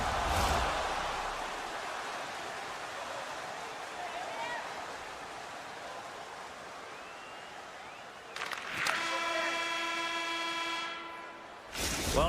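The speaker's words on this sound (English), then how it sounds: "there's the horn ending period number 1" A period-ending horn in an ice hockey video game sounds as a long, loud, steady tone near the end, under constant crowd roar and commentary.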